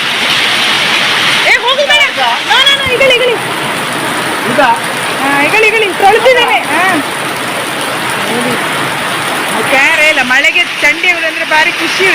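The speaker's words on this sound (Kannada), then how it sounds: "ಈ ಮಳೆ ಸೌಂಡಿಗೆ ಕೇಳ್ತದ ಇಲ್ವಾ" Steady, heavy rain pours down throughout, a loud continuous hiss, with people talking over it at intervals.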